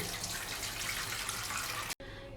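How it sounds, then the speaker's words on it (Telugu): Water from cooked chicken pours steadily through a strainer for Arabic-style majboos, a loud continuous splashing rush that stops abruptly near the end, then a quieter trickle follows. "నెక్స్ట్ ఈ చికెన్లో వాటర్ అంతా కూడా అండి ఇలా ఫిల్టర్ చేసుకోవాలండి."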